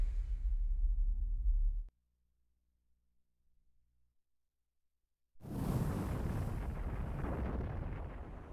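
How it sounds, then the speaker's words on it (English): A video game explosion in Xenogears: a loud rumbling burst cuts off into near silence, then a heavy roaring wash of blast noise swells up and holds. "That was a big explosion."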